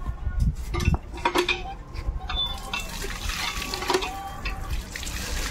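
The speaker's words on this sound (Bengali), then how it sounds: "দেখি আগে হাতটা ধুয়ে লাই" Running tap water splashing over hands at a sink, with faint clinks of dishes or utensils nearby, continuous and close throughout.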